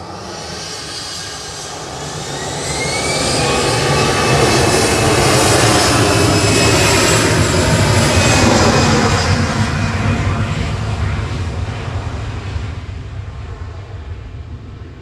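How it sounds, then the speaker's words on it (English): An EasyJet Airbus A320 jet at Manchester Airport roars loudly, its broad engine rumble swelling over several seconds, holding, then slowly fading. "OE IJR heading back to Malaga with flight 7002, A320 Classic for EasyJet"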